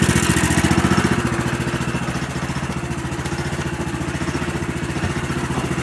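A sawmill engine runs steadily while milling a large rotten white pine log, a loud, continuous mid-pitched drone with a fast even pulse and faint clatter, heard alone without talk.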